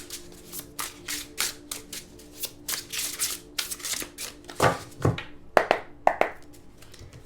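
A deck of tarot cards being shuffled by hand, with rapid bursts of riffling and slapping giving way near the end to a few sharper taps as the deck is cut, close and fairly loud with no talking.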